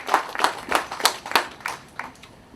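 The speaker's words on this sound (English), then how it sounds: "give you guys a very nice round of applause just to show our gratitude and appreciation" Outdoor ceremony applause for military veterans, a short sparse run of separate claps at a steady pace, moderately loud and a little distant, with no voices over it.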